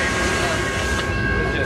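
A BNSF circus train rolls past at Galesburg, Illinois, at night, its railcars making a loud, continuous rumble and rattle close by while people talk over it.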